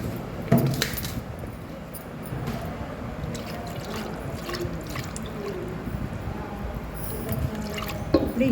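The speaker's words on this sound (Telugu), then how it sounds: "తర్వాత ఈ జ్యూస్ వేసేద్దామండి." Juice is poured onto cut raw mango pieces for magai pickle, making faint, close trickling and dripping sounds with occasional light clinks of utensils, and no voices.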